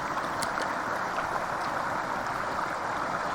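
A firefighters' ration pack is pushed down into water, giving a soft, continuous sloshing and bubbling rush, close and fairly quiet, with a few faint higher splashes.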